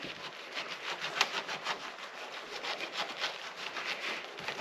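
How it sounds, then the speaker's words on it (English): Soapy rag scrubbing around a cargo trailer tail light, a steady close rubbing and swishing with a quick back-and-forth rhythm that keeps going without a break. "We're going to go ahead and scrub around this guy too."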